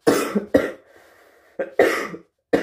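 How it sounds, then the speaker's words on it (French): Several sharp coughs in quick bursts, close and fairly loud, with short quiet gaps and a faint hum between them. "Je tousse que quand je parle"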